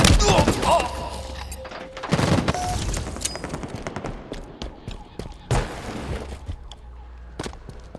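Video game gunfire in bursts of rapid shots and heavy thuds, with mechanical clatter between volleys, fairly close and loud.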